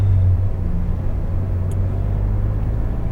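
Steady low rumble of a Porsche 991.2 GT3 RS engine idling and rolling slowly forward, a constant near drone with road noise and a brief faint high tick partway through.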